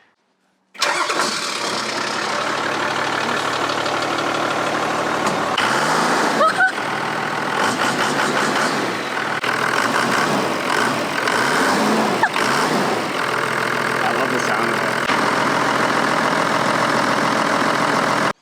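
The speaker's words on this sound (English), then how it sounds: "This thing is mostly engine noise, not really exhaust sound. Right. Because it's a very like industrial sounding diesel" A 60 Series Toyota Land Cruiser's diesel engine starts and settles into a steady, industrial-sounding idle, loud and close, running continuously with no talk over it.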